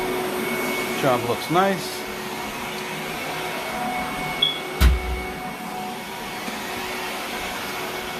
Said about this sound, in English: so we're vacuuming up.